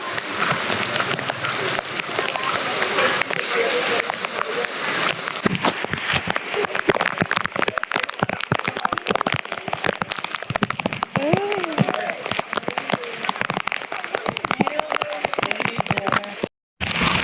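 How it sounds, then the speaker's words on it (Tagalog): Heavy rain pours down in a dense, constant roar during Typhoon Dante in the Philippines, loud and close throughout with crackling spatter, while a voice is faintly heard in the middle. "Pauwi na kami pero lumakas bigla ang bigla na lang siyang bumuhos."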